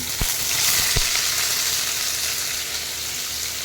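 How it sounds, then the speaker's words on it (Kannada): Onion and tomato fry in coconut oil, making a bright, steady sizzle close by, with two dull knocks of the pan or spoon near the start. "ಇದು ಸ್ವಲ್ಪ ಸಾಫ್ಟ್ ಆಗುವವರೆಗೂ ಫ್ರೈ ಮಾಡಿ ಎಣ್ಣೆಯಲ್ಲಿ"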